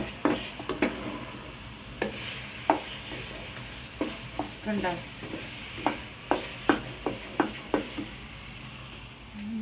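Jackfruit halva is stirred in a pan with a soft ongoing sizzle, the spoon scraping in regular rhythmic strokes, and a voice speaks briefly.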